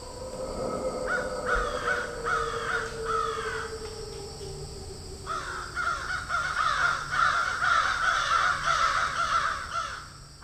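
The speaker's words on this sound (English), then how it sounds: "crow screeching like a woman to get another hunter's attention" A crow caws repeatedly in the woods, loud and close, with harsh, strained, screech-like calls in irregular bursts over steady background noise.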